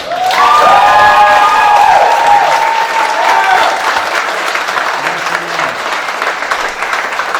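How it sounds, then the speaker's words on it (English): A crowd at a music festival claps and cheers loudly for the bands, the applause strong at first and then tapering slightly while continuing steadily; a voice rises briefly over it. "give every single band a round of applause"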